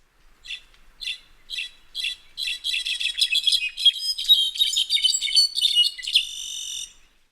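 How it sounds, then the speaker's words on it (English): A slate-colored solitaire, a thrush, sings a series of bright, metallic, fluting phrases, starting with short spaced notes and building into dense overlapping trills, clear and close. "Both of these birds are in the thrush family. Both of them are singing duets with themselves."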